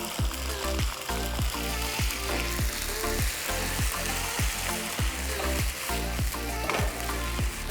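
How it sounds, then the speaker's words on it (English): Leftover rendang with its gravy and garlic sizzles and fries in a hot pan, a loud steady crackle broken by regular scraping stirs about every half second, close up with no talking. "now we're going to be adding in the leftover rendang."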